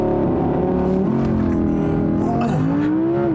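A 2020 Audi R8 supercar with a V10 engine roars at full throttle in dynamic mode with stability control off, a loud, close, continuous howl whose pitch climbs and drops with gear changes.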